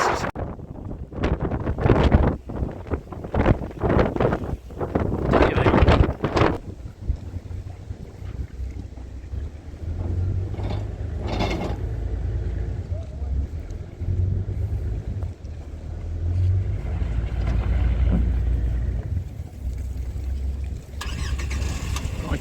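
Strong southeasterly wind buffets the microphone beside the choppy Danube, heavy low rumbling gusts running throughout after a burst of sharp knocks and clatter at the start, loud and close.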